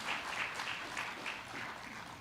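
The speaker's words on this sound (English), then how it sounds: "Let's give them another round of applause" Audience applause for contestants at the Junior Miss Cherokee competition, a steady wash of clapping held at an even level throughout, moderately distant.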